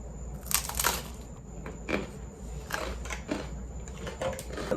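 Someone bites and chews a crunchy snack close up, with a series of sharp, irregular crunches and crackles over quiet background hum.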